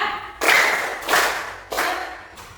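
A group in an indoor class session claps in unison three times, each clap a sharp broadband burst with a short decay, spaced about half a second apart with no talking.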